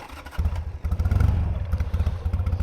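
A Harley-Davidson Sportster 883 motorcycle engine idles nearby with a loud, uneven, loping rumble and a steady throbbing pulse, running alone without talk.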